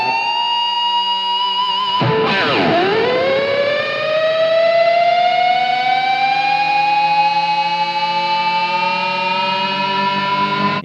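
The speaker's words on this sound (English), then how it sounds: "like a weird whammy noise" Electric guitar whammy bar dive and rise: a sustained distorted chord plunges sharply in pitch, then slowly bends back upward and holds, loud and alone with no talk.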